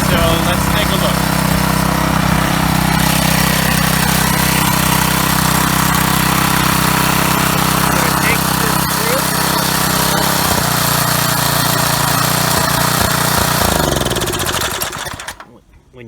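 Small Briggs and Stratton engine on a power washer with a faulty shutoff, running loud and steady at close range with a voice over it, then cutting out and dying away at the end.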